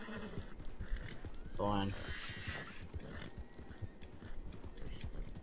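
A horse in Red Dead Redemption 2 gives a short whinny amid faint hoof clip-clops during a bank robbery mission, with people talking over it throughout.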